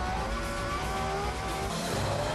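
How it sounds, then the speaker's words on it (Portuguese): A car engine revs hard and steady, a loud sustained motor roar with rising tones, like a race car accelerating close by. "O som do motor é música."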